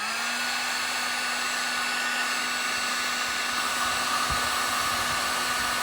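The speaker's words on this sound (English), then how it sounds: "Handy dandy electric heat gun." An electric heat gun blows hot air in a steady, even whoosh with a faint constant hum, running at a close, level volume from start to finish while plastic balloon stick segments are softened for mounted shooting.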